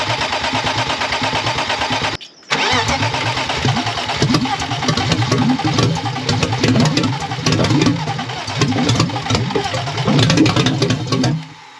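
A turbocharged BMW E36 325i engine cranks in a long, loud, rhythmic churn after a brief pause, sputtering and almost catching without fully starting.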